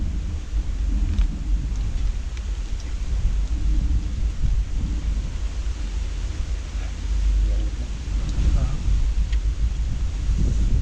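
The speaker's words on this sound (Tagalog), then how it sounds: "Ngayon ang lakas na ng hangin." Strong wind roars steadily against the microphone in heavy, rumbling gusts that continue throughout.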